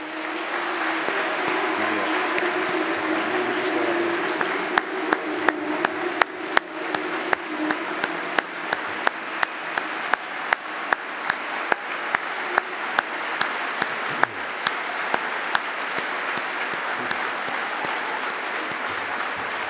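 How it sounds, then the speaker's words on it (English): A large ceremony audience claps for Gary Sinise at the Sylvanus Thayer Award, sustained dense applause that soon settles into a rhythmic unison clapping, evenly paced and loud. "please join me in a great round of applause for Gary Sinise"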